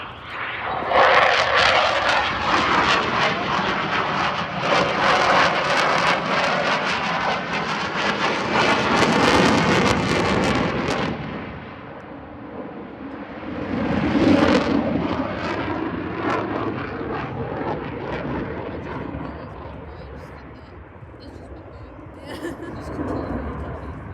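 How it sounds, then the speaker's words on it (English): An F-16 Fighting Falcon jet flies at the Farnborough Airshow 2024, its loud engine roar swelling, easing and surging again across the pass, with wind buffeting and people talking nearby. "F-16 Fighting Falcon."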